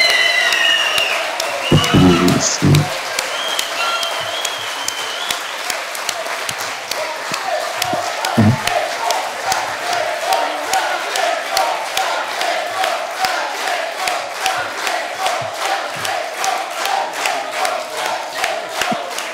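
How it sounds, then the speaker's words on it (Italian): Loud audience applause and cheering fill a congress hall, with a few shouts early on, then settling into a steady, rhythmic clapping that carries on throughout. "Questo applauso è tutto per te."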